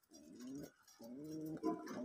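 Pigeons in a loft give soft, throaty coos close by, two drawn-out rolling phrases separated by a brief pause, quiet and alone.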